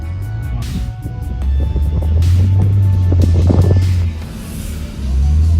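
A Lexus IS250 on its stock exhaust gives off a deep, low-pitched tone that rises and holds steady as the car moves, with wind buffeting and faint voices in the background.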